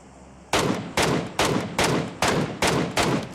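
Gunfire in the shooter game One Man Squad: seven loud, evenly spaced shots roughly half a second apart, each a sharp crack with a short decaying tail, with no talk over them.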